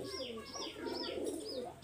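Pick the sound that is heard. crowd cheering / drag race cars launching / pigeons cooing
pigeons cooing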